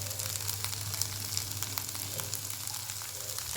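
Corn chivda with crushed peanuts is sautéed in a pan, giving a steady, dense sizzle with faint stirring scrapes throughout.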